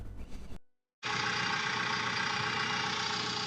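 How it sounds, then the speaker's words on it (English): A backhoe engine idles outdoors at a home site on a morning, a loud, steady mechanical drone that starts after a short gap and continues evenly to the end. "has the backhoe on right now"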